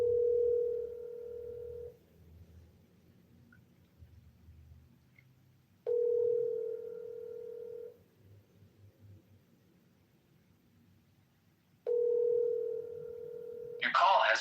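A telephone call tone ahead of voicemail, three steady ringback tones spaced evenly with quiet gaps between them, followed by a brief noisy burst at the end.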